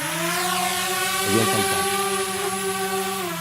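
Spraying drone with a 10-liter larvicide tank flying, a steady loud rotor whine with layered pitched tones, and a voice speaking briefly over it.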